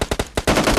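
Gunfire in a PUBG-style solo match using an M24 sniper rifle: four sharp, loud shots in quick succession followed by a dense burst of rapid weapon fire.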